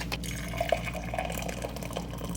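Hot water pours steadily into a cup for Earl Grey tea, a continuous liquid stream with faint splashy detail at moderate volume, no talking.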